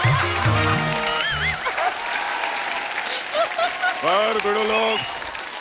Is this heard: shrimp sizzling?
no